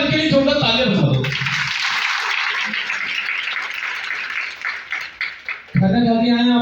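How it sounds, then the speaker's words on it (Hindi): Loud, dense applause fills a seminar hall for several seconds, with talk before and after it. "आप एक बार इनके लिए जोरदार तालियां बजा दो"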